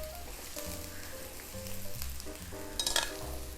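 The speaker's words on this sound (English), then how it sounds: "Stir fry" Mushrooms stir-fried in vegetable oil in a hot pan, crackling sizzle with scraping stirs and a burst of louder spattering near the end, close and alone.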